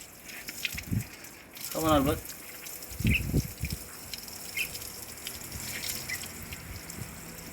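Water pours and trickles over a pet bird named Albert during a shower, with intermittent splashes and drips, a brief chirp from the bird, and a person talking throughout.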